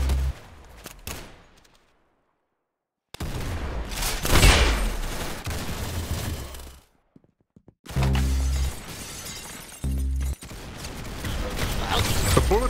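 Weapons firing in Roblox Arsenal, with loud bursts of rapid gunfire broken by sudden silent gaps, sharp shattering cracks and mechanical clatter, then repeated close shots toward the end.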